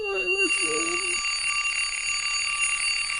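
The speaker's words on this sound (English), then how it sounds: "Look at my alarm clock. It does a little rewind ring." An alarm clock doing a rewind ring: a brief warbling, descending electronic chirp, then a steady high-pitched ringing tone that continues close and loud to the end.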